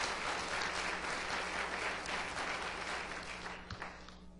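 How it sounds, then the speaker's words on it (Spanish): Church congregation applauding in praise during a sermon, a dense, steady wash of clapping that holds for several seconds and fades slightly toward the end. "Dele un aplauso de alabanza al Rey, porque Él viene pronto"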